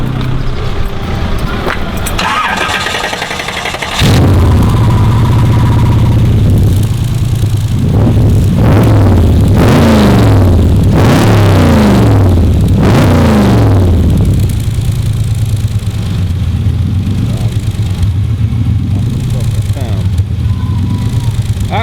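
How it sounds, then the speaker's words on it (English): An XCS Model A rat rod with a V8 and side exhaust starts up and settles into a loud, rumbling idle, then revs hard several times in quick bursts before dropping back to idle. "Do you mind starting it up for us and revving it for us?"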